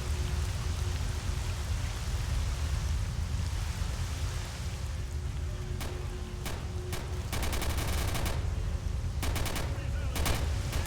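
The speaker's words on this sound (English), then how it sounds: "Why are they shooting their guns so much?" Enemy gunfire in S.T.A.L.K.E.R. Shadow of Chernobyl: bursts of rapid automatic shots crackle over a steady rain-like hiss, with several short volleys in the later half.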